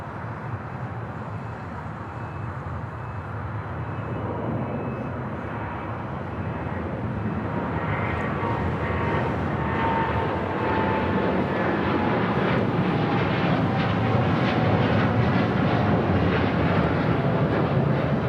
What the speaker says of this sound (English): this United Dreamliner now rolling down 25 right,